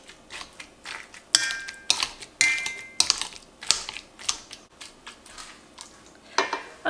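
Potato masher pressing apricots in a pot for jam, giving irregular wet squelches and metallic clanks against the pot, close and repeated, with no talking.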